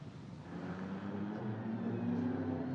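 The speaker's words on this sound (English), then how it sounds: "Great noise from the Aston Martin as it growls its way out of Lisboa." An Aston Martin GT4 race car growls out of the Lisboa corner during GT4 qualifying at the Macau Grand Prix, a steady engine note that climbs in pitch as it accelerates, heard from a distance and fairly faint.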